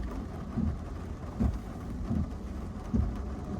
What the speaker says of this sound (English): I think the rain is gonna hold up